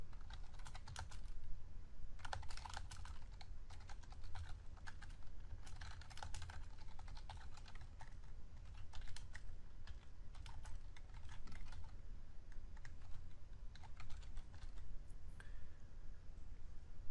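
Fingers type a SQL query on a computer keyboard, a steady stream of soft, close key taps and clicks with brief pauses, over a low background hum.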